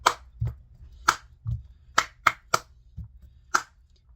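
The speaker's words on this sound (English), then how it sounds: "How many times did I clap?" Hands clap about six or seven times with uneven pauses between them. Each clap is a sharp, close, isolated smack, and soft low thuds fall in between.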